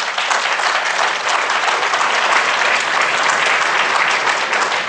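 Sustained audience applause for Vietnam War veterans at a summit, steady dense clapping from a large crowd throughout, loud and continuous with no voices over it.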